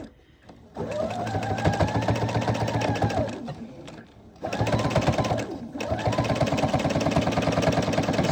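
A sewing machine quilt-as-you-go stitching a quilt block close to the seam ditch, running loud and close in two long continuous bursts with a brief slowdown and pause between them.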